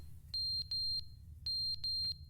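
Alarm in The Stanley Parable game, sharp high electronic beeps sounding in two paired bursts with a short gap between them, clear over a low background hum.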